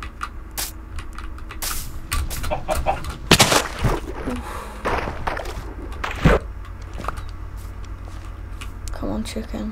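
Chicken clucking in the video game Minecraft, scattered clucks and scuffing footsteps among busy clicks and clatter, fairly close, with a person talking through it.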